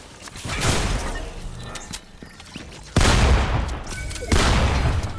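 Shotgun blasts in the video game Fortnite, a burst of loud close booming shots with two sharp heavy reports later on, dense and punchy over clattering game sounds.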